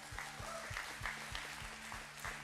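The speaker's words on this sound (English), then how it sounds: "Give them a round of applause." Applause from a crowd, steady clapping with some rhythmic beats underneath, heard at a distance and fairly faint.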